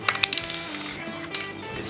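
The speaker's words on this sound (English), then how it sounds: "so I'm just going to spray it around." Short hissing spray bursts near the start, then quieter spraying, as a CHEMZ cleaning product goes onto a Series 1 AU Ford Falcon XR6 VCT Cobra during a tidy-up.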